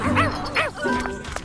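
Several cartoon dogs at a party in an animated show yip and bark in quick, overlapping bursts, close and lively, with a wavering whimper-like tone mixed in under cartoon voices.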